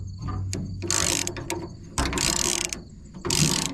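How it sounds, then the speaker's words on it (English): Socket wrench with a 15/16 socket ratcheting to loosen a nut on a Frontier OS27 sawmill, giving three bursts of rapid, close, loud clicking separated by brief pauses, with no talking. "to loosen this nut, I am using a 15/16 socket"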